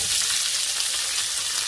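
Potatoes sizzle and fry steadily in a hot pan, a dense, even crackle held close and loud throughout with no pauses and no talking.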